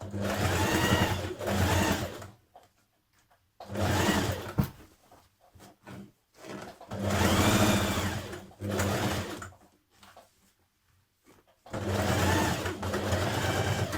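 A sewing machine stitches trouser seams in several runs of rapid, steady whirring, separated by short pauses with faint handling sounds, close and clear with no talk.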